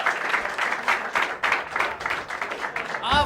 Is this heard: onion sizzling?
no